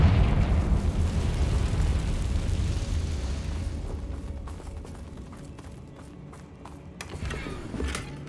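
Confringo explosion spell cast in the Hogwarts Legacy video game: a loud, heavy blast with deep rumbling that slowly decays over several seconds into crackling debris, with a short burst of clatter near the end.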